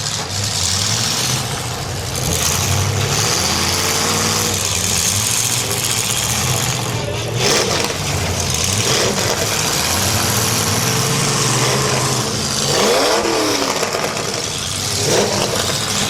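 Demolition derby car engines at a county fairground derby rev and idle continuously, loud and close, with rough rising and falling throttle surges through a dense, steady mechanical roar.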